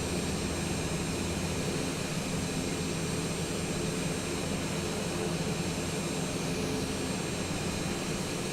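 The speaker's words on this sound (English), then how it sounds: "You guys can hear that jet." Continuous broadband roar of a jet engine in a flight simulator, steady and unchanging in level with a faint high whine on top, filling the scene without any speech.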